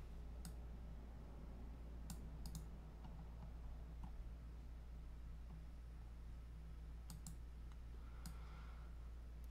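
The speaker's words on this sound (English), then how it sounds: "hit the letter D on the keyboard to delete those" Computer keyboard keys are pressed in a few sparse, crisp clicks, some in quick pairs, faint and close over a steady low background hum, with no talk.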